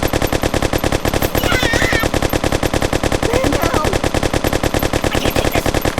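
Rapid, loud machine-gun fire at a shooting range in the video game Kick the Buddy, an unbroken rattling burst of evenly spaced shots lasting the whole span, with brief cartoonish vocal yelps mixed in.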